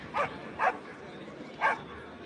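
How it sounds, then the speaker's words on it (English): A dog barks three times at a Mondioring championship, a pair of quick barks followed by a third after a pause, moderately close against an open outdoor background. "now you hear the dog barking"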